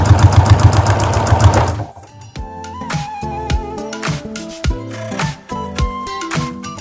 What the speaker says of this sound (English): put your machine needle down into this bottom piece, and you can just sew around it